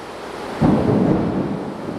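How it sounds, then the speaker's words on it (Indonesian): Rain falls steadily outdoors around a mosque study gathering while a deep rumble of thunder swells in and rolls on, loud and close, with no talking. "Alhamdulillah diberikan hujan oleh Allah Subhanahu wa ta'ala."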